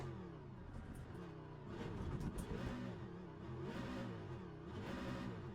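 A Ford Mustang race car in the Le Mans Ultimate sim on the 24-hour circuit revs and accelerates in waves, its engine note climbing and falling repeatedly, fairly quiet and alone.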